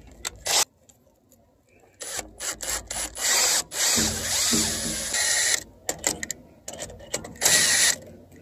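A power drill drives a screw into a winch mount in short, sharp bursts of whirring and ratcheting, followed by a longer run and a few more quick pulses, heard close with no talking.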